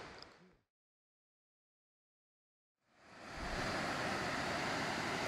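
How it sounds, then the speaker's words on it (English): The McCloud River flowing in the early morning, a broad, steady rush of water that cuts out briefly and then swells back in and holds at a moderate level, with no talk. "you're looking at the McCloud River"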